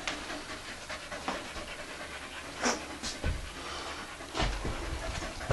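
A dog pants close by in rapid, rhythmic breaths that run steadily through the clip, with a few heavier gasps and faint rustling during an exploration of an old barn find.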